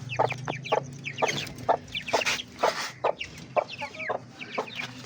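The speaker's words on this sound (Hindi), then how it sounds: "तो गाइस, चूज़े बाहर आ गए हैं।" Chicks and chickens cluck and peep close by in a repeated, irregular series of short calls, with a low background hum underneath and no talking.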